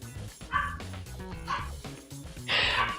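Several dogs bark and yip in short excited bursts, three louder outbursts spaced about a second apart over a steady background.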